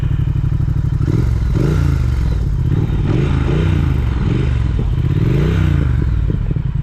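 Triumph Speed Twin motorcycle engine runs close and loud, a torquey deep throb that rises and falls in several repeated revs, with mechanical clatter and whir.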